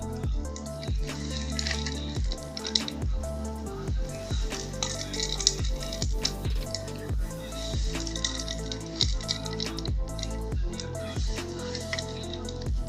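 Jaggery, grated coconut and dry fruit filling for kajikayalu being stirred in a pan, with repeated wet, sticky scrapes and squishes in a steady rhythm, close and moderately loud throughout.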